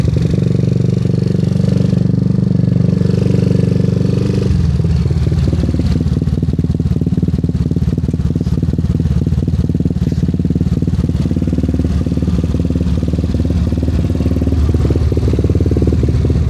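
A Yamaha Aerox scooter with a 183cc build, its engine idling in a loud, steady rumble close by that shifts tone slightly partway through and keeps a fast, even pulse.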